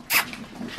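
A dog greeting people at an airport, giving a short yelp or bark at the start followed by softer whining and shuffling nearby.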